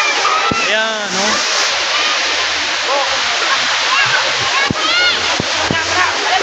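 Bulinaw Falls pours with a steady, loud, broadband rush of falling water that fills the whole scene, while people talk and call over it.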